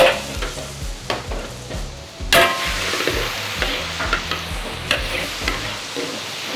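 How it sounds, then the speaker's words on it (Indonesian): Garlic is stir-fried in oil until browning, a close, steady sizzle punctuated by rhythmic scraping and tapping of a spatula against the pan, with no voices. "Kita tumis sampai kecoklatan ya."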